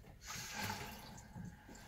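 Water from an RV shower head running at low pressure, a soft steady hiss of spray lasting the whole moment with no one talking.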